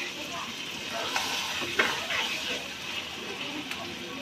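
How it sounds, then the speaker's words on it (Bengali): Meat fried in a pan for a roast dish, part of Eid cooking. A bright, steady sizzle runs throughout with scattered stirring scrapes, while a voice talks faintly underneath. "মাংসটা ভেজে নেই নেই কারণ ভেজে নিলে রোস্টের মাংস ভেজে নেয়"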